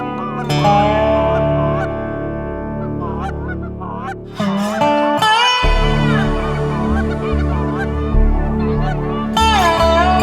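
A flock of wild geese honks loudly and close during a Wyoming goose hunt, overlapping calls that carry continuously with dense, repeated nasal honks and a few stronger bursts.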